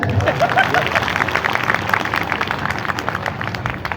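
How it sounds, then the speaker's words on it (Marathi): An audience at a Bhima Koregaon Shaurya Din commemoration speech in Wardha breaks into steady, loud applause, a dense wash of clapping with faint crowd murmur throughout. "जोरदार टाळ्या होत्या"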